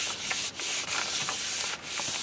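Fingers rub firmly over paper laid on a painted feather to pull a monoprint, making a loud, close, scratchy rasp in repeated back-and-forth strokes with short pauses between them.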